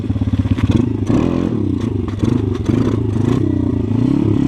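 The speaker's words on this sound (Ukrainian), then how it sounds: "на заднє його підбираю і зовсім легенько газує" Kovi Pit 150 pit bike engine idling close by and blipped lightly a few times, a rough rapid putter rising briefly then settling, with no talk.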